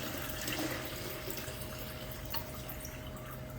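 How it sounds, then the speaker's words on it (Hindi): Tap water running steadily into a bottle, a continuous close splashing stream with a faint tonal hum underneath and no talking. "तो तुम पहले एक अब बॉटल भरोगे।"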